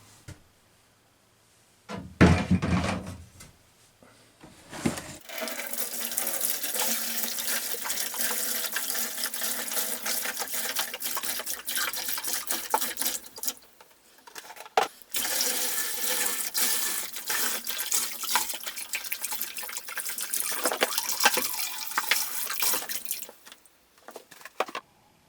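Vinegar pours steadily into a bucket holding a rusty axe head, a long continuous splashing rush lasting most of the clip with a short break midway, close and fairly loud.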